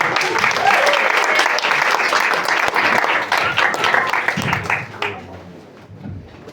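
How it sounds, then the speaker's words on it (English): A comedy club audience applauds a stand-up comedian, loud, dense clapping that gradually thins and fades out toward the end, with a voice emerging faintly as it dies down. "give a warm round of applause for Mr. Andrew Fahrenbach"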